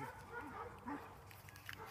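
Dogs barking somewhere off at a distance, faint and irregular yelps and whimpers under a steady background hum.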